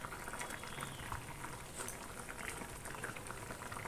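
An omelette curry bubbles at a rolling boil in a pan, a faint but steady, dense popping and gurgling of liquid with no voices.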